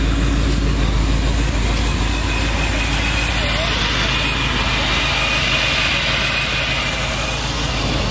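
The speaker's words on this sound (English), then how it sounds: "We got a boosted Jeep right here on welds." A boosted Jeep on drag wheels idles before a street race, a steady, deep, low rumble that holds for several seconds. Voices sound faintly in the background.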